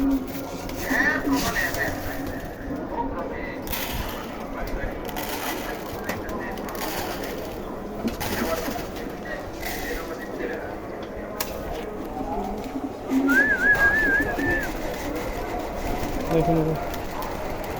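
Hungry pigeons coo and flutter around for food in a loft, soft cooing calls and wing flaps under a person talking throughout, with a louder burst of activity near the end.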